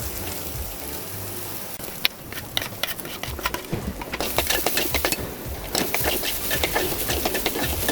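Freshly grated coconut and raisins are stirred in hot ghee in a pan for a modak filling, giving a soft continuous sizzle with scattered clicks and scrapes that grow busier partway through.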